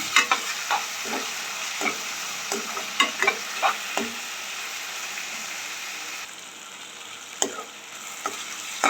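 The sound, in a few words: tomatoes with onion and garlic sauteing in oil, stirred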